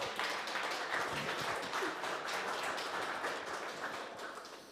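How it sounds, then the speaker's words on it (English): A round of applause at a TYPO3 v12 software release party, dense clapping from a gathered audience sounding close and steady, tapering off slightly toward the end. "Jam, clapping into the mic isn't a good idea"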